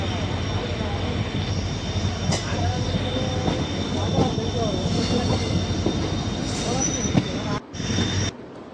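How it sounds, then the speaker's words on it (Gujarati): At a railway station, a train arrives early in the morning with a continuous heavy rumble that holds steady at moderate loudness. A voice can be heard faintly over the noise. "આજે ટ્રેન વહેલી આવી ગઈ છે"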